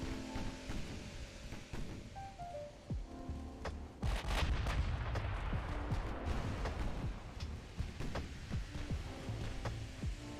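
Naval gunfire and a torpedo salvo launched from a warship in the naval strategy game Ultimate Admiral: Dreadnoughts, heard as a dense run of heavy booms and sharp reports over a rumbling low bed. The loudest burst comes around the middle.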